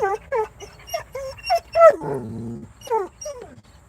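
A dog whimpers in a string of high, wavering whines, then gives a lower drawn-out growl partway through before the whining resumes, all heard close up and alone.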